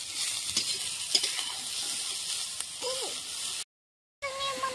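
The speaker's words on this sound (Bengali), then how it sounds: "কফিটা আগে ভেজে নিই" Cauliflower pieces frying in hot oil in a kadai give a constant bright sizzle and hiss with occasional stirring scrapes, briefly cut to silence before the sizzling resumes.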